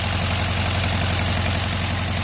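Steady, loud idle from a 1973 VW Karmann Ghia engine heard up close, a continuous low hum with quick rhythmic pulsing and ticking, no one talking.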